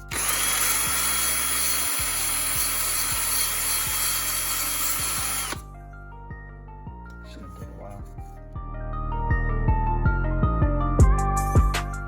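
A wire wheel on a power drill brushing an old alternator cover held in a vise, a loud high whirring grind that stops partway, followed by softer clinks and handling noises, then a whine as the drill spins up again.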